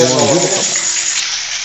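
Water rushes steadily into a cistern being filled by a frog-type pump, a broad continuous hiss that stays loud throughout, with someone briefly speaking over it at the start.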